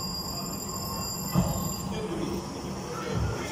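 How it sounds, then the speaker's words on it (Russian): A train rolls past a railway crossing with a steady rumble of wheels on track and a faint high squeal, a couple of heavier thumps rising above the continuous noise, no talk. "Да, поезд проехал."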